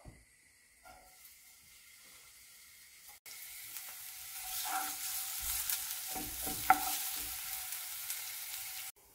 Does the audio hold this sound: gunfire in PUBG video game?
no